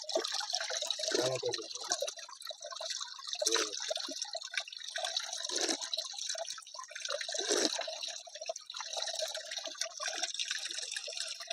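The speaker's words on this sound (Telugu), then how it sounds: "ఈ బండల మధ్యలో నుంచి ఒక వాటర్ ఫ్లో వస్తుంది" Spring water trickles out from between rocks on a hillside, a continuous light splashing and dripping flow heard close up, with a few louder gurgles along the way.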